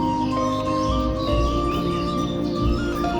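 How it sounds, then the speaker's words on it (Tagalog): Birds chirp in trees amid steady outdoor ambience in Taipei Expo Park, with a continuous low rumble of distant traffic or wind beneath. "Tunog ng mga ibon. Nasa taas ng puno."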